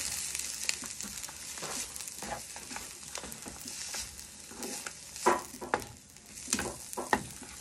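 Beetroot and grated coconut being heated and stirred in a pan for chutney, with a steady sizzle and scraping stir strokes that come through close up, without any talk.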